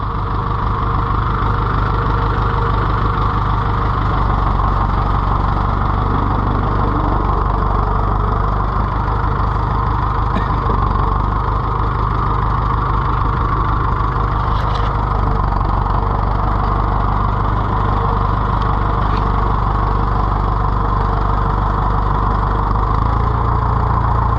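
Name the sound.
David Brown tractor engine idling after warm start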